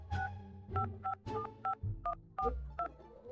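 A string of telephone dialing tones, about nine separate beeps of varying pitch in an uneven rhythm, close and clear with a low background hum.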